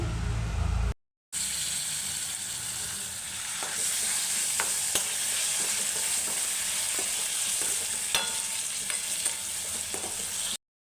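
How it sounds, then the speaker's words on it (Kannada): Chopped onion and tomato frying in a pan with mustard seeds and curry leaves, a continuous close sizzle with occasional stirring scrapes and crackles, briefly cut off near the start and again at the end. "ಕಟ್ ಮಾಡಿ ಇಟ್ಕೊಂಡಿರೋ ಒಂದು ಈರುಳ್ಳಿ ಹಾಗೆ ಒಂದು ಟೊಮ್ಯಾಟೋನ ಹಾಕ್ಕೊಂಡು ಪೂರ್ತಿಯಾಗಿ ಫ್ರೈ ಮಾಡ್ಕೊಳ್ತಾ ಇದ್ದೀನಿ"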